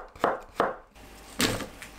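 Knife cutting cucumber on the diagonal into slices about 0.3 to 0.5 cm thick: two sharp close chops on a board, a pause, then a third longer slicing stroke, with no voices.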